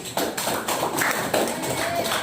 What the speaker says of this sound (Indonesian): Tepuk tangan buat Hafiz.